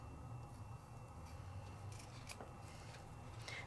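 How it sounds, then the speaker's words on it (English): Scissors trimming the corners off a rubber craft stamp: faint, close snipping and rubbing, several small cuts with quiet pauses between. "I'm just going to take off the corners."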